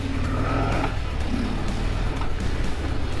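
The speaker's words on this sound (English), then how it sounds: "Now that we're on the road, I'm going to take it on the spin around the city" A Harley-Davidson Heritage Classic 114 motorcycle riding through city streets, its loud, steady engine drone running throughout with road and wind noise and no pause.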